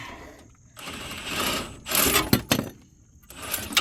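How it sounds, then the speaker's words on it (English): A swivel socket working a brake bolt loose on the front of a truck during a rotor and brake job, giving bursts of metallic ratcheting and clattering tool noise with brief clanks and short pauses between. "let's just finish taking this one out with the swivel socket"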